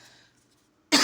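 A single sharp cough bursts out at the very end of a short, otherwise quiet moment, loud and close.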